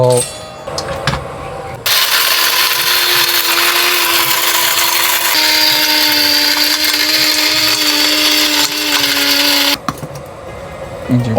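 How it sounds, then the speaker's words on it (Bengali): A loud electric spice grinder grinding date seeds whirs steadily for about eight seconds, its motor pitch shifting midway, then cuts off abruptly. "আমি এই গ্রাইন্ডারে দিচ্ছি এটা মশলা গুঁড়া করা মেশিন"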